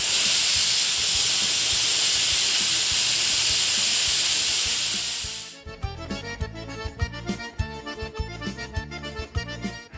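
A pressure cooker of beans, taken off the heat after 40 minutes of cooking, vents steam in a loud, steady hiss for several seconds before it cuts off, followed by clattering, rattling kitchen sounds.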